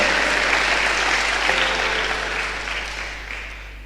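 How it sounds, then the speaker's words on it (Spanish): A church congregation claps loudly in praise, a dense continuous applause that gradually tapers off toward the end over a low steady hum. "¿Cuántos le pueden dar un fuerte aplauso al Rey de los cielos?"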